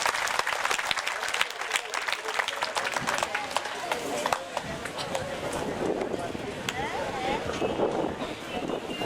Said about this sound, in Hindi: जोरदार तालियों की गड़गड़ाहट से आप इनका स्वागत और अभिनंदन करें